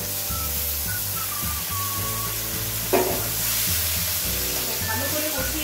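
Boiled potatoes and peas drop into frying masala, and a steady, close sizzle rises with a brief louder hiss as they land. Soft stirring follows, with a faint background tone underneath.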